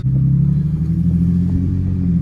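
A turbocharged Infiniti G37 engine rumbles low and steady from inside the car while driving, a constant droning hum with no speech.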